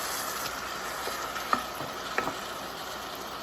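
Onion and garlic cook in a pan with a soft, continuous sizzle, broken by two or three light clicks or taps of a utensil, close and quiet without speech.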